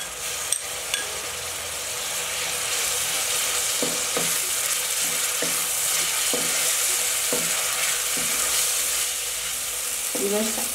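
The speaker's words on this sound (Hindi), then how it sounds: "अदरक को हम ज़्यादा नहीं भूनेंगे, इसके साथ ही हम 1 कटी हुई हरी मिर्च शामिल कर लेंगे" Ginger paste and chopped green chili sizzling in hot oil in a karahi for mutton karahi, a steady loud frying hiss with a few soft clinks and stirring scrapes of a utensil against the pan.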